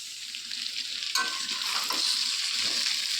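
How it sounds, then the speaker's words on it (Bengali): Chunks of elephant foot yam and potato fry together with tempering spices in a pan, a steady close sizzle with a few stirring scrapes throughout. "ওল আর আলু একসঙ্গেই আমি ফোড়ন দিয়ে তার মধ্যে ভেজে নিচ্ছি"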